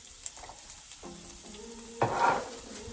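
Chopped garlic fries in three tablespoons of sunflower oil for chilli garlic mogo, a soft sizzle with a few faint clinks, then a louder burst of crackling hiss near the end.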